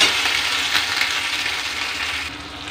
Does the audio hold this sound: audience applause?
no